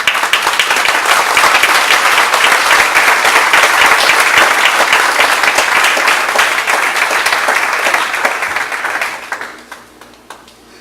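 A church congregation claps loudly and steadily for about nine seconds, the applause then tapering off quickly into quiet.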